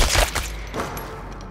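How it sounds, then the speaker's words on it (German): A short burst of gunfire from the video game Chernobylite: a few sharp shots crack in quick succession at the start, then fade into a brief echoing tail. "da hat jemand die Schüsse gehört, was?"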